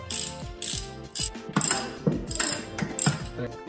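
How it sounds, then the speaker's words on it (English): Ratchet clicking in quick bursts while the clutch bolts are tightened on a Honda S2000, close and fairly loud, with short pauses between strokes and no talk. "you gotta be back here with your ratchet"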